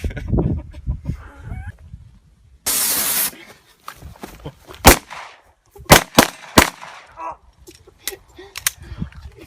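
A single loud, hissing burst of bear spray lasting about half a second, followed by sharp bangs, scuffles and shouting voices.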